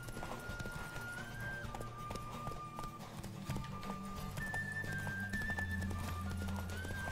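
Horse hooves clip-clop at a steady gallop during a horse race in the Witcher 3 video game, continuous and fairly close, with tonal game music running underneath and no talk over it.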